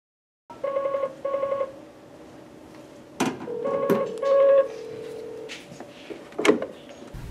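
Touch-tone dialing on a refuge phone system under test: two short beeping tone bursts, then clicks, a longer tone and further beeps and clunks as the call is set up. The sounds are close and clear, with no speech.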